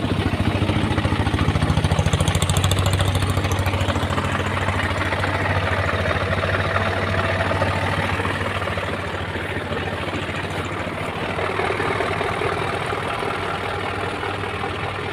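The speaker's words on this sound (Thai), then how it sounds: "ฟังเสียงเครื่องกันครับ เครื่องนิ่มๆครับ" A used Isuzu NPR six-wheel truck with a 130 hp diesel engine idles steadily nearby, a smooth low rumbling drone that continues throughout without revving.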